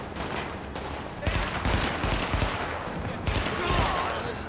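Bursts of rapid gunfire fill a firefight in the video game The Division, loud and dense throughout with heavier volleys near the start and end, over a constant din of combat.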